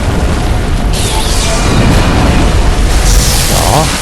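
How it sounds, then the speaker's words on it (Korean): A heavy booming explosion in the video game Bloodborne, a loud deep blast with rumbling bursts over several seconds, while a player talks over it. "폭발이 걸렸네"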